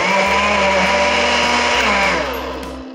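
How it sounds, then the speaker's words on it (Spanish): A blender grinds evaporated milk, cheese and gelatin, a loud close motor whine with churning liquid, running steadily before slowly winding down at the end. "Y todo esto lo vamos a moler."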